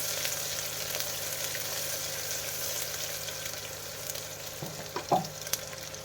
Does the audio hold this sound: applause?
no